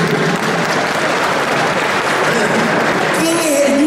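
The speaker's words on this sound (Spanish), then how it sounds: "Aplaudan, sí." Audience applause at a talk, a steady wash of clapping filling the whole moment with voices mixed in, loud and continuous.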